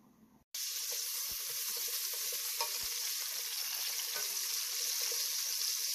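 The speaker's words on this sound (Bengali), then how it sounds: "এখন এগুলোকে আমি ঘির মধ্যে দিয়ে হালকা ভেজে নিব" Almonds, peanuts, pistachios and white and black raisins frying in ghee give a steady, close hiss and sizzle, with a few faint stirring clicks and a brief quiet moment just before the sizzling starts.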